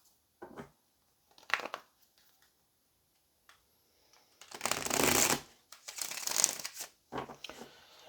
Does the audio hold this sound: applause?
no